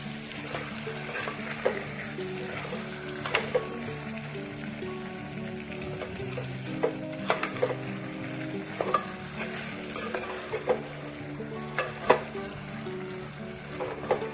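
Spiced potatoes stirred in hot oil for a Gujarati rasawala bateta nu shaak, with a steady close sizzle and frying crackle throughout and sharp scraping clicks of a spoon against the pan every second or two.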